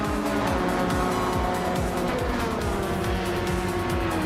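Race cars speed through a racing video game. Engine roar is loud and continuous, with rapid repeating pass-by sweeps and tire squeals layered close together.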